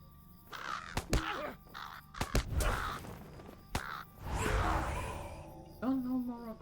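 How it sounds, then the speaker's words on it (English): Crows cawing in the Lord of the Rings Online game, several harsh caws with whooshing sounds mixed in, while a person talks and gasps over the calls. "It sounds like crows."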